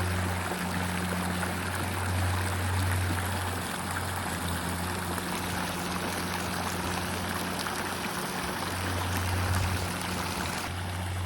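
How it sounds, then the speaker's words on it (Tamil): Continuous rushing of water cascading down from several heights, a dense, even wash of flow with a low steady hum beneath, no talk. "இந்த தண்ணி பல உயரத்துக்கு பாஞ்சு கொண்டிருக்குது"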